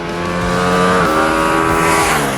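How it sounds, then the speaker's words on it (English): A 2021 Ducati Multistrada V4 S with its four-cylinder V4 engine and twin-pulse firing order accelerating hard on the road, a loud, close, continuous rising engine note with a brief shift dip midway. "the 4 cylinders fire up again with the typical twin pulse firing order of a Ducati V4"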